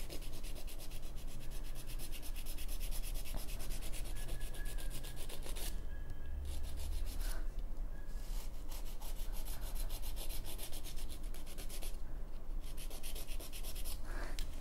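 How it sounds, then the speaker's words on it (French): A hand nail file rasps back and forth across a fingernail in a steady, continuous rhythm of close scraping strokes, with brief pauses between bursts and no talking. "pour celles qui veulent travailler avec la lime et pas la lime électrique"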